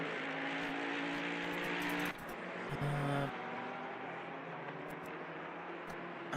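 Race cars, including a Porsche 920, lapping Silverstone during a 90-minute TOGA Motorsport race: a continuous engine drone that shifts pitch partway through as cars pass, steady and moderately distant with no talk.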